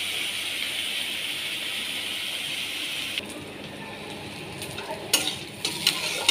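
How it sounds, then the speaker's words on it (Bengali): Potato and bitter gourd dry-fry in a pan with no extra oil. A soft, steady sizzle runs for a few seconds, then quietens, followed by a few sharp utensil clinks and scrapes. "আলু উচ্ছে ভাজা, কোনো এক্সট্রা তেল নেই"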